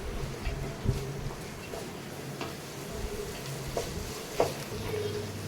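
Curd being stirred into fried chicken pieces in a pan, with soft scraping and low sizzling plus a few sharp spoon taps against the pan, steady and fairly quiet.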